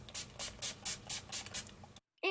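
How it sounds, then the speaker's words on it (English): NYX makeup setting spray mists out in about eight quick, evenly spaced hissing bursts from close by, then a brief silence. "One last thing is to spray some setting spray, and this is my favorite one from NYX."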